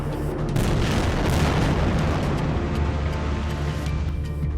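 Bombs dropped in Israeli airstrikes on Gaza buildings produce a dense, continuous roar of blasts and rumbling debris, loud and sustained throughout.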